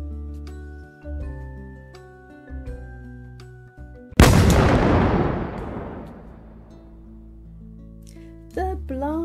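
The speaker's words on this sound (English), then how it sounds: "The blast from the cannon made the ship rock and roll." A single loud cannon boom bursts out over background music, its roar slowly fading for several seconds before the music carries on.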